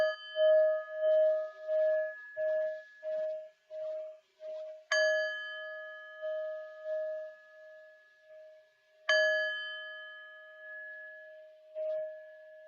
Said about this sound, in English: sit back and listen to 3 sounds of the bell